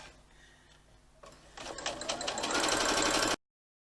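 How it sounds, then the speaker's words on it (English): A sewing machine stitching fabric strips together for a patchwork piece, its motor whirring and needle chattering steadily, speeding up and growing louder before stopping abruptly, close by with no voices. "Scant 1/4 inch and continue until you've sewn them all together."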